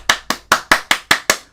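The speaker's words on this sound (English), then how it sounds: "can I get a hand clap?" Seven sharp hand claps in a steady, quick rhythm, close and fairly loud with no other sound around them.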